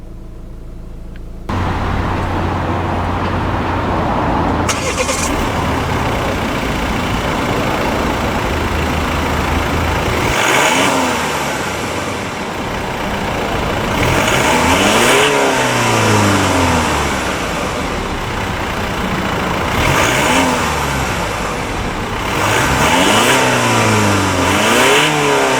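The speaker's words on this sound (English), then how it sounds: "The engine is a 2-litre turbo diesel" A 2016 Volvo XC60 D4 with a 2-litre turbo diesel engine revs hard, close up, in repeated rising and falling surges over a steady throaty drone.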